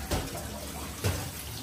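Tap water runs into a container to store water during an outage, a faint steady trickle and splash with two brief louder gushes, heard close in a quiet room.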